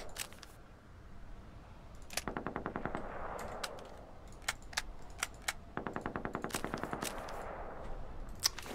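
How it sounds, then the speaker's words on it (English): Automatic gunfire in the Metro Exodus shooter, long rattling bursts of rapid shots repeating between sharp single cracks, loud and close throughout. "Why is there such a gunfire in there?"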